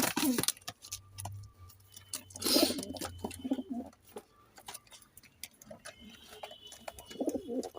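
Giribaz pigeons, including a male, coo softly nearby, a low throaty burble with quieter rustles and clicks around it.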